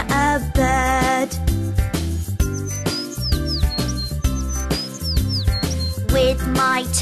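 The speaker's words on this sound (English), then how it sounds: "With my ears, I can hear, I can hear a bird." Bird chirps rise as short, bright upward sweeps over a loud, steady children's song with a thumping beat, repeating in small clusters.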